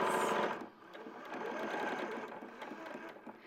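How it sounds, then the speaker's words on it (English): A sewing machine runs steadily, stitching a lining seam all the way around at a 5/8 seam allowance, a continuous whirring hum with fine rapid stitch rhythm that holds at a moderate level throughout. "Is just machining all the way around. Follow the 5/8."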